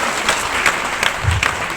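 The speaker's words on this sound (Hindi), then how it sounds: "एक बार ताली बजा दें" A seated audience at a business seminar claps on request, a short burst of dense applause from a crowd in a hall, loud and steady without speech.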